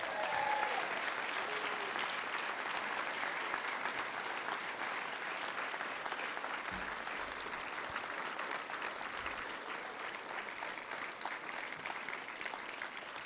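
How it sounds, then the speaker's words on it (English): A middle school assembly audience applauds band students: steady, dense clapping from a large crowd, somewhat distant, lasting the whole stretch with no talk. "I'd like to have all of our band students please stand up and be recognized with a round of applause"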